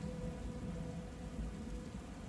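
Steady thunderstorm rain hisses without a break in the video game Book of Hours, with a low rumble underneath and no talking.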